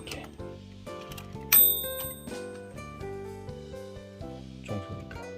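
A manual typewriter's margin bell gives one clear, bright ding that rings out and decays, set among a few soft, close keystrokes and mechanical clicks.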